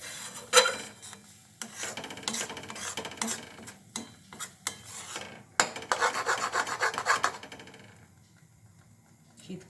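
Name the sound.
stirring green pea kochuri filling in a pan to dry it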